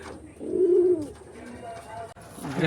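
Pigeons kept in a box coo nearby, with one clear, throaty coo and a softer follow-up, while low talk murmurs faintly underneath.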